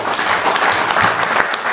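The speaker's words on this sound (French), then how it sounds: "je demanderai des applaudissements sincères et" Steady audience applause fills a political conclave of the MLC in Brussels, with dense clapping sustained evenly throughout and no talk over it.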